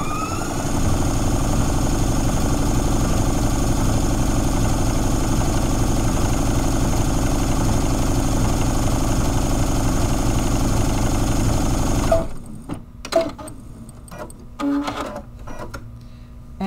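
A Stellaire sewing machine stitching sashiko with invisible thread runs with a steady, even mechanical whir for about twelve seconds, then stops, leaving a few quiet clicks and handling noises.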